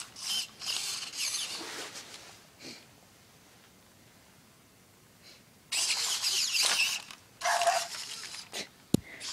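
Robot pet's torso motor mechanism whirring and creaking as the toy struggles to get up, several short bursts with quiet gaps, close and moderately loud.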